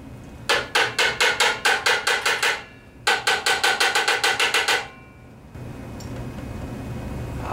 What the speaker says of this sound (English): Now back to tap, tap, tap.